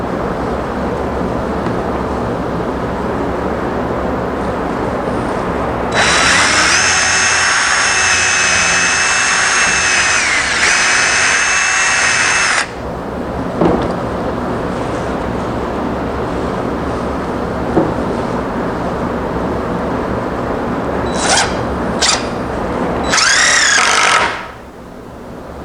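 Power drill driving exterior-grade screws into an angled wooden corner brace on a gate, a loud sustained whir lasting several seconds, followed by a few shorter bursts near the end over a steady background.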